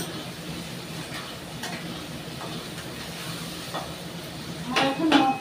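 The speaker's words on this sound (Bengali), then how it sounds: "পেঁয়াজটা একটু লাল লাল করে ভাজা করে নিয়ে তারপরে মাখাতে হবে" Onions sizzling in a frying pan, a steady low crackle with occasional stirring scrapes and a louder burst of sizzle near the end, with someone speaking at times.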